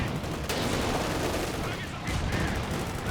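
Artillery fire in the Company of Heroes 2 wartime strategy game, with a steady wash of distant booms and crackling gunfire running without a break, a sharper blast near the start and another further in.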